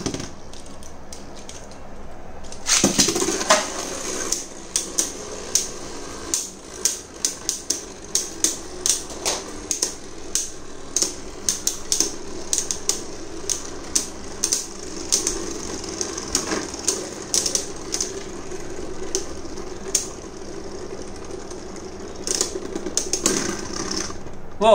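Beyblade Burst tops, Geist Fafnir against Cho-Z Spriggan, launched into a plastic stadium, followed by loud ongoing rattling, grinding spin and rapid clashing clicks, close and busy throughout.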